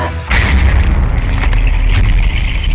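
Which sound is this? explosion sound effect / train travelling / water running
explosion sound effect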